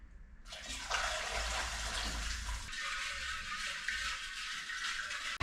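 Water gushes steadily from a tap into a container being rinsed before sake bottling, a loud continuous splashing rush with a deeper filling rumble at first that lightens partway through, close and without speech.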